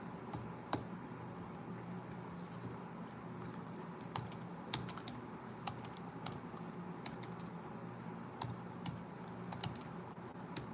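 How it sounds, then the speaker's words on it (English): Soft typing on a computer keyboard taps out scattered clicks beneath a steady background hiss, faint and somewhat distant, with no voices. "make sure I'm doing some typing here"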